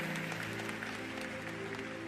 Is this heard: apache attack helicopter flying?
no